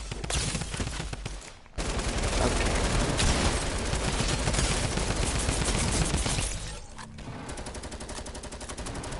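Sustained light machine gun spam fire in a video game, a dense, loud, continuous rattle of rapid shots with a brief pause near the start and a slightly quieter stretch toward the end.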